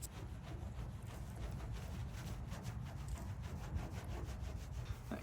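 Cloth rubbing rubbing alcohol over a surface to lift stuck-on residue, with steady, quiet back-and-forth scrubbing strokes that continue throughout and no talk.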